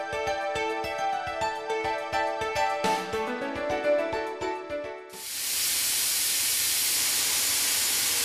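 An air-powered spindle at 40,000 RPM deep-rib end milling pre-hardened HRC 40 steel with a tapered end mill: a steady high-pitched whine with rapid ticking cuts, then an abrupt loud, continuous hiss of rushing air.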